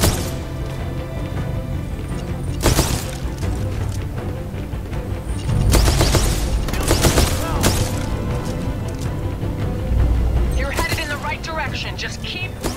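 A powerful pistol firing in Titanfall 2, sharp loud shots cracking out at intervals among game battle noise, with voices talking throughout.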